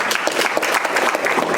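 A round of applause from attendees at an evening club meeting, a continuous, moderately loud patter of many hands clapping together throughout, with no break.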